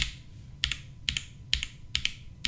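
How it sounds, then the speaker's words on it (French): Keys on an AKKO 5075B Plus mechanical keyboard, each press giving a double click on the way down and back up, five crisp paired taps at a steady pace, close and alone. "quand j'appuie sur une touche, on entend deux bruits bien distincts."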